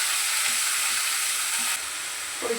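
Chopped vegetables, spinach among them, stir-fry with garlic in a hot pan, giving a steady close sizzle throughout, with a brief clatter of stirring near the end.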